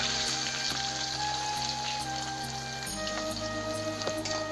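Cut potatoes sizzle in hot oil in a pan for a Bengali aloo palak, a steady close crackling hiss with faint pops and a persistent hum beneath it.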